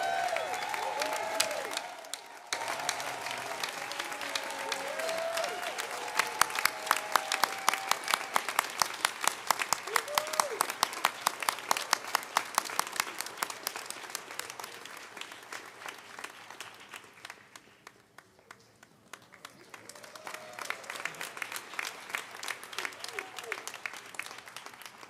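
An audience at the investiture of a university president, Dr. Maurice D. Edington, breaks into sustained applause that swells and stays dense for about twenty seconds, dips briefly, then rises again, with crowd murmur beneath the clapping.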